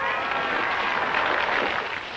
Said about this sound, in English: They're cheering now because of Barrowby won.